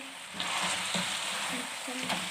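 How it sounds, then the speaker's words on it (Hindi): Quail meat and spices fry in a karahi with steady, close sizzling. Spatula scrapes and stirring knocks break through the sizzle every so often, and no one speaks. "अब हम 5 से 7 मिनट अच्छे से इसकी भुनाई करेंगे, सारे मीट की और सारे मसालों की इकट्ठी।"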